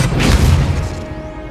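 An Expelliarmus spell lands in Hogwarts Legacy with a short, loud booming impact that rings out and fades within about a second, with no voice present.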